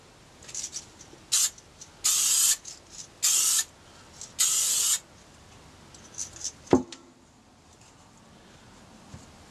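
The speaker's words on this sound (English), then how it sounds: "This time I'm using Duplicolor Auto Spray Black." Several short bursts of Duplicolor Auto Spray Black aerosol paint hissing, close and loud, separated by brief pauses, followed by a light clatter and quiet.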